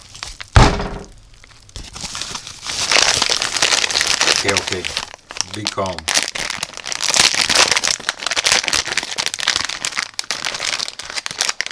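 AliExpress module parcel being unpacked, with crinkling plastic wrapping rustled close up in bursts and a sharp crack early on, while a person speaks briefly over it.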